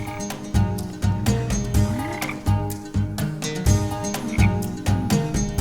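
Green frog croaking in a fantasy action film scene, a steady series of loud, close croaks repeating in an irregular rhythm and layered with deep tonal background sound, with no talking.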